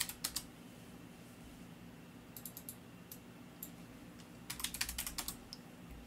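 Bursts of clicking keystrokes on a computer keyboard, short quick clusters separated by pauses over a quiet room background.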